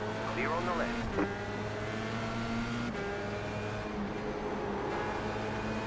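A race car in a racing simulator game comes up with a steady engine drone, a pitch that rises and falls, and a brief sharp whine of revs partway through. It sits under continuous game noise, and people talk over it.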